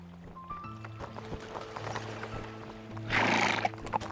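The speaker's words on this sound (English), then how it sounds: "There's the other horse." Horses in the video game Kubifaktorium neigh and whinny over steady clip-clopping hooves, with a louder burst of whinnying near the end, all alone without talk.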